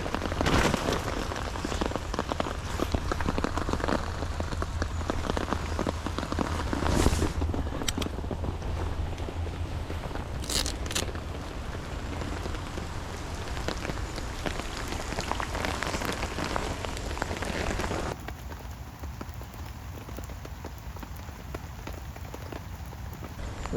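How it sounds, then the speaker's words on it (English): Steady rain patters on a lake in a wooded spot, a dense continuous hiss that stays loud and even throughout, easing slightly toward the end, with no voices. "The rain's not getting any better."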